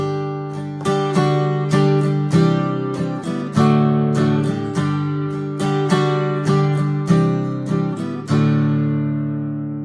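Open acoustic guitar without a capo picking the intro to a country song slowly, with clear ringing plucked notes and strums in a steady rhythm, close and loud with no talking.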